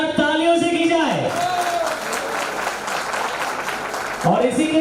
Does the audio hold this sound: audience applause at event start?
yes